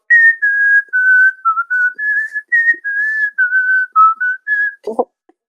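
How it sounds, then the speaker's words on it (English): A single person whistles a bright, bouncy melody of short phrases with brief pauses, ending in a quick breathy sound. "Should we just whistle the intro?"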